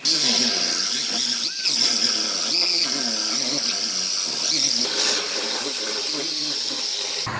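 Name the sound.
power tool cutting off a car's outer body panel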